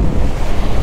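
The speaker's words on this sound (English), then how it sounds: "It's pretty dang windy out here." Loud, steady wind buffets the microphone over rushing surf on a beach at Orange Beach, Alabama, a continuous low roar with no pauses.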